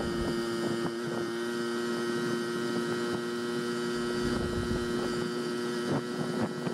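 A Honda Express NC50 moped fitted with an aftermarket carburetor runs from a cold start, giving a steady, close buzzing hum with a droning tone that holds evenly throughout.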